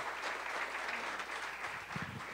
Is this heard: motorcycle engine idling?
no